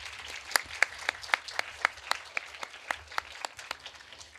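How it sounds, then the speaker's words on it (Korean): An audience applauds a magician after a live magic show with a thin, sparse round of clapping, a few distinct hand claps landing in a loose steady rhythm, fairly quiet and with no talking. "마술사 정대성 씨에게 다시 한번 감사의 박수 부탁드릴까요"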